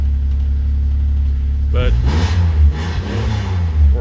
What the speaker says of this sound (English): for an XFI engine, this baby purrs